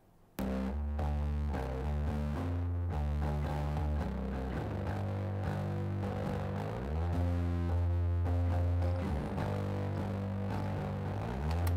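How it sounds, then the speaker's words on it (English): Bass guitar recorded through a DI and a bass amp, blended together in a mix, playing a steady, full-bodied line with a sustained low tone from start to finish and no talking. "Now both of these basses together sound something like this."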